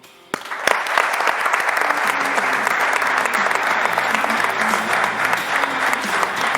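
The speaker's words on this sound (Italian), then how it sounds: "che merita ancora un applauso" Sustained applause from a studio audience celebrating Virtus Entella's championship win, starting abruptly and continuing steadily at full strength for several seconds.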